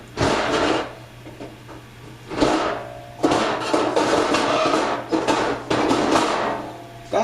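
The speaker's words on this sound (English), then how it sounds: "That is the sound of me looking for a top." Someone rummages through kitchen drawers hunting for a jar lid, making repeated rattling, clattering bursts of utensils and objects. The bursts come close and loud in several waves, with a low steady hum underneath.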